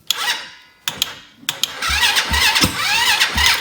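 Gas ATV engine cranking over repeatedly without catching, with short starter bursts and then a longer grinding crank, loud and close with no talk.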